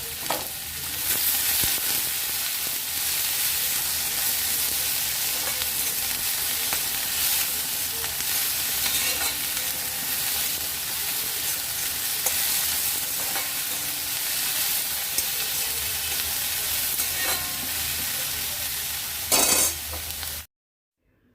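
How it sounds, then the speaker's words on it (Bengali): Ginger, green chili and garlic are sautéed on high heat, giving a loud, continuous sizzle with the scrape of stirring all the way through until it stops abruptly at the end. No one speaks. "এগুলো হাই হিটে সর্টে করে নেব।"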